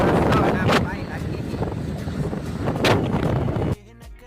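Cold wind buffeting the microphone while riding a bike along a rural road after the rains, a loud rumbling roar with gusts that stops abruptly near the end.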